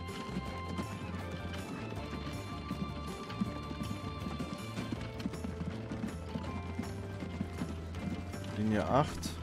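Horse-drawn carriages clip-clop in the Transport Fever game, a steady patter of hooves over a dense game soundscape with background music, and a voice talks throughout.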